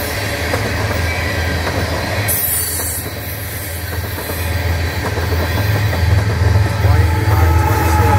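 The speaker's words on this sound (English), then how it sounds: "Usually this train has hoppers, one hopper in the front," A CN ET44AC and ES44AC locomotive pair hauls an empty northbound ethanol train, heard as a steady loud rumble of rolling railcars with rhythmic wheel clatter and some squeal, continuous throughout with no voices.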